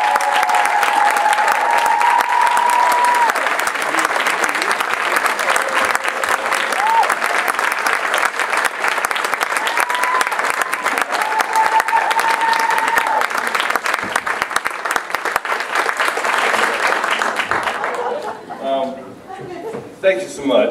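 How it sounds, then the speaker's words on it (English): Audience at a music achievement award ceremony breaking into loud, sustained applause with scattered cheers, a dense wash of clapping that fades near the end as a voice begins. "Ladies and gentlemen, please a round of applause for Mr."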